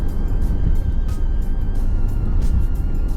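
A Mercedes S320L rolls along at idle with no throttle, giving a steady low engine drone and road rumble heard from inside the cabin, continuous and fairly loud, with no talking.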